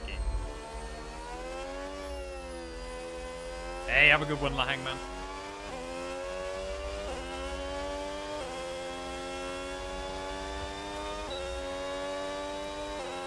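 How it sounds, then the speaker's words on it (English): Red Bull Ford Formula 1 engine in the racing video game F1 26, a steady high-pitched whining drone that rises through gears with brief shift changes, running under a man's casual speech. "this Red Bull Ford engine sounds so good as well"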